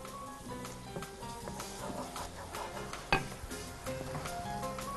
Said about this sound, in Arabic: ادي الهريسه مع الشطه، حمرها بس شويه حلوين كده